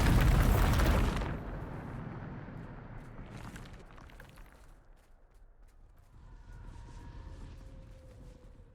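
Bombarda spell blast in Hogwarts Legacy: one loud, broad explosion bursts at the start and fades into a rumbling decay, then scattered debris crackles and faint ambient tones follow.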